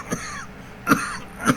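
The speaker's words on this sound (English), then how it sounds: "Forgive me, I still have a cough." Three short, close coughs, spaced unevenly, with a quiet pause between the first and second.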